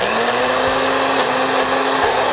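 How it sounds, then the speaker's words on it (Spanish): A loud, steady whir of a blender motor blending beans and chiles, running continuously with a constant hum, close by and without speech. "Ahí se están licuando ya."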